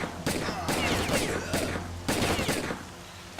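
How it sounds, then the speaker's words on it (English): Pistol fire in the shooter S.T.A.L.K.E.R.: Call of Pripyat: a handful of loud, sharp shots at uneven intervals, each with a short echoing tail over game ambience. "Now let's try our new pistol, shall we?"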